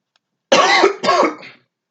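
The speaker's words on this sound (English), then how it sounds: "Smoker's cough" Two rough, throaty coughs in quick succession, close and fairly loud, with silence before and after.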